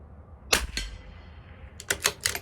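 A CZ 457 LRP .22 LR rifle with Hornady Varmint Express rounds aimed at a 50-yard target: one sharp crack, then quick mechanical clicks and clatter of bolt cycling, close by and without talk.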